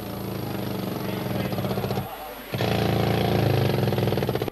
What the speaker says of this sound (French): On s'occupe d'abattre le charbon avec notre marteau-piqueur.